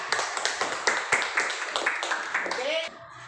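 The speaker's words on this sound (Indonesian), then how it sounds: "tepuk tangan untuk Dea" A classroom of students claps for a classmate, a short burst of quick, uneven hand claps with a few sharp taps, fairly close, ending abruptly as a voice begins.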